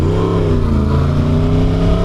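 A non-stock Yamaha R1 sport motorcycle engine revs up sharply nearby, a loud, harmonically rich exhaust roar that holds and wavers briefly.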